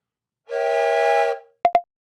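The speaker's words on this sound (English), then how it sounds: "it's about time that you blow that whistle" A whistle is blown once in a loud, steady blast lasting about a second, near and clear, followed by two short popping sounds, with no talk.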